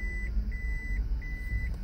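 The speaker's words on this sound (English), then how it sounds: "you just have to love that backup beep that you can hear from the inside of the car" Toyota Prius reversing warning heard from inside the cabin: three evenly spaced electronic beeps, faint and steady over a low engine and road rumble.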